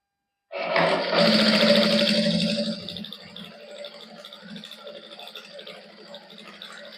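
Domestic sewing machine stitching fine rows along the 5-inch-wide hem of a Punjabi farshi salwar, a loud steady whirring burst for about two seconds that then settles into a quieter continuous run.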